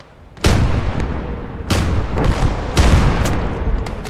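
A flare gun fires in the Gates of Hell: Ostfront game, with several sharp, loud booming reports spaced a second or so apart, each followed by a rumbling tail.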